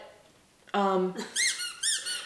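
A dog's squeaky toy squeaks loudly during a Barn Hunt competition, with a sustained squeak followed by several short, sharp rising-falling squeaks close by.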